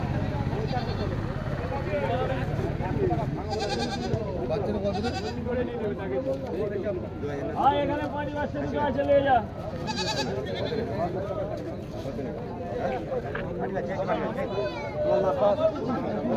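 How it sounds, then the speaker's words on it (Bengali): Black Bengal goats bleat repeatedly at a busy goat market in Uluberia, Howrah, their calls rising over constant crowd chatter and nearby talking voices. "তো এই দেখো, এইদিকে হচ্ছে ব্ল্যাক বেঙ্গল অর্থাৎ দেশি ছাগলগুলো।"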